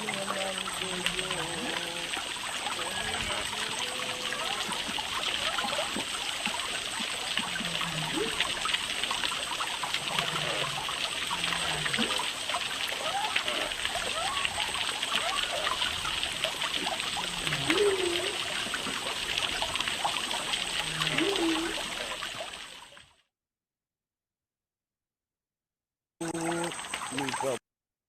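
Water flowing in a stream, with a continuous close rushing and trickling wash that holds steady for over twenty seconds, then drops to silence before briefly returning at the end.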